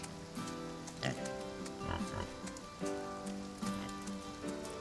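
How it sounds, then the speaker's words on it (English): Pigs grunting and oinking on a farm in the video game Farm Together, several tonal snorts at a moderate level over a steady pattering, rain-like game ambience. "They got some pigs there"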